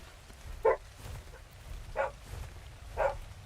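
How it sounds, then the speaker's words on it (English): A dog barks three times, spaced about a second apart, fairly close over a low rumbling background during a livestream of the game ARK: The Island. "That's Violet barking"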